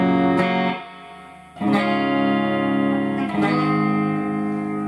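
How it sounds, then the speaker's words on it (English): Clean electric guitar chords ring out through a Fender Hot Rod Deluxe amplifier on the clean channel, three strummed chords each left to sustain and decay, loud and close with no voices. "this is just your regular clean channel on input 1"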